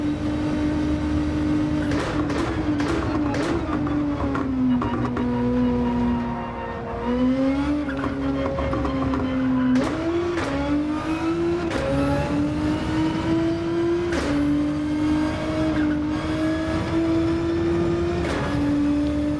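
Race car in Gran Turismo 7 under braking and cornering, a loud sustained engine drone that dips as it slows, then rises again through repeated upshifts with tire noise over it, and no speech.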